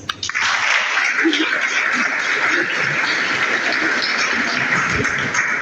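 An audience at a book presentation on Bolivian history gives a rector a round of applause, a dense and even patter of clapping that holds steady throughout with scattered brief vocal sounds.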